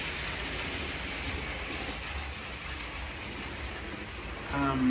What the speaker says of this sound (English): That's the school's locomotive, the one that needs traction tyres.